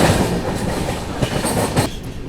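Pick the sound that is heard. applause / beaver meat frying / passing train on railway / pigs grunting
passing train on railway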